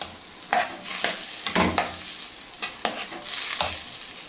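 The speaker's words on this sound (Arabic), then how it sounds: "نقلب الملح" Rice fried with salt in a pot is stirred with several distinct scraping, sizzling strokes at an uneven rhythm, close and moderately loud, with no talking.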